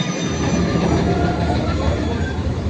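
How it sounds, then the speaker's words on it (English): A Disneyland mine train roller coaster rumbles past on its track, a loud, continuous rolling roar with wheel squeal and rattle filling the whole stretch. "It is hands down my favorite mine train coaster now"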